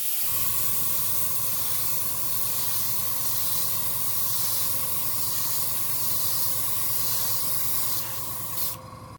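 Airbrush spraying Vallejo Model Air White Grey base coat onto a plastic model starship kit, a continuous close, even hiss with a faint steady compressor tone underneath, ending abruptly.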